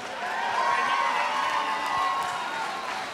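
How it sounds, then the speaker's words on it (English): A kickboxing event crowd claps, cheers and whoops for a fighter, a loud, sustained roar of mixed voices and applause holding steady throughout. "let me get a big round of applause for Mark Gonzalez"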